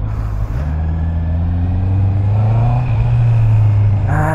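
A 2024 Honda CB650R motorcycle with E-Clutch pulls away in first gear, its engine note loud and close, rising steadily as it accelerates with no talking over it.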